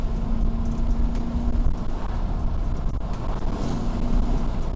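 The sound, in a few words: truck driving up close behind on a canyon road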